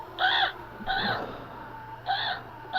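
A Halloween prop crow in a garage haunted house gives three loud, harsh, electronic-sounding caws, each about a third of a second long, with short gaps between them and a steady hum underneath.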